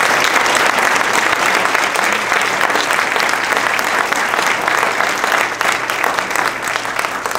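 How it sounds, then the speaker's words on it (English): Sustained applause from a community audience at a teachers' association board candidate forum, loud and steady throughout, fading slightly near the end. "they need a round of applause for that"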